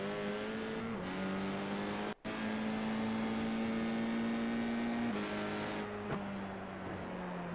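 Ferrari Formula 1 car engine in a racing video game, a loud steady high-pitched whine holding pitch with brief shifts and a momentary cut, continuous throughout with no talk.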